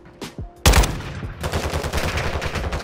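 Gunfire in Modern Warfare 2 Resurgence mode, with a couple of faint distant shots, then a sudden loud close burst and rapid automatic fire that keeps rattling to the end.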